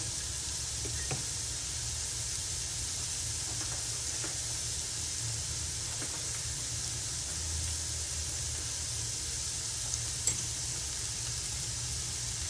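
A tortilla sizzles in hot oil in a pan, a steady close hiss with a few faint ticks and pops throughout, no talking.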